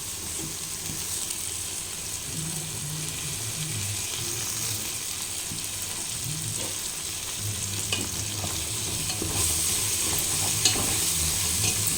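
Mint leaves fry in hot oil with ginger and turmeric while mutton head curry is being prepared, a steady, close sizzle with light stirring scrapes running throughout and no talk.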